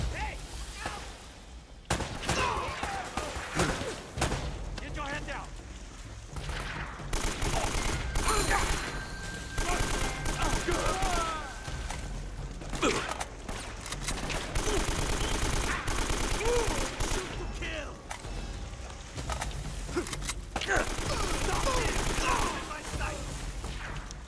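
Sustained video game gunfire in Uncharted 3 at the fortress, with rapid automatic bursts and scattered single shots crackling close and loud throughout, broken by a short quiet gap near the start.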